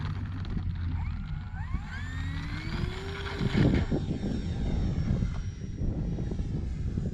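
An E-flite Cirrus SR22T RC airplane comes in to land in a crosswind, its electric propeller whine rising and falling in pitch as it passes fairly close and loud, with no talking.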